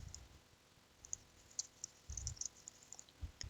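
Quiet computer keyboard keys being tapped as a conference name is entered, a sparse series of light clicks, some in small clusters, over faint room hiss.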